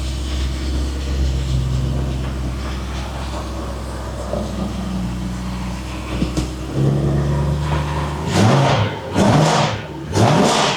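A BMW 5 Series engine is started and revved in a shop, with a steady low idle rumble followed by louder, surging revs near the end, close by.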